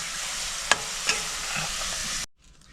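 Chopped onions sizzle steadily in hot oil on a medium flame while being fried golden for a rohu fish korma, with two sharp stirring clatters, and the frying sound cuts off near the end.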